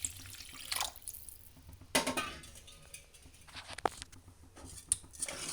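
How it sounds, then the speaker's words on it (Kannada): Water pours into half a kilo of washed rice for hotel-style veg pulao. A short splashing gush starts midway and fades into faint drips and small kitchen clatters, with no talking. "ಮಿಕ್ಸ್ ಮಾಡಿಕೊಂಡು ಈಗ ನೀರು ಹಾಕ್ಕೊಳ್ಬೇಕು."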